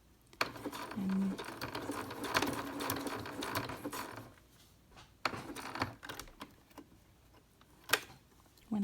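Sewing machine stitching fabric for a sequined bag for an 18-inch American Girl doll, a standard home model, running in a steady close whir for several seconds before stopping, followed by sparse clicks and handling noises.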